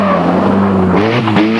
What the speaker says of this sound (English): His car with a broken exhaust manifold sounded as if it was on its last legs